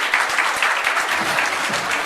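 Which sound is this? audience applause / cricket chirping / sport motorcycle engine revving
audience applause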